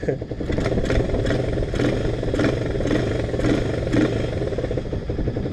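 A Romet K 125 motorcycle engine runs up close with a steady, loud clattering thrum that rises in repeated throttle pulses, and someone talks over it.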